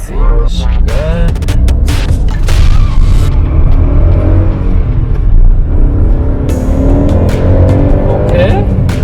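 A Spoon Sports Honda N-ONE RS drives with a loud steady engine drone close by, rising and falling as gears shift, while someone talks over it.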